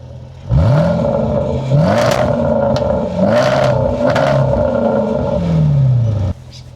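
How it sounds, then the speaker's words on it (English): Supercharged V8 of a Range Rover SVR revved hard in a series of loud, close blips, each surge rising then falling back, with a crackling burble between pulls before cutting off abruptly near the end. "I'll give you guys a little bit of revs, see what the car sounded like"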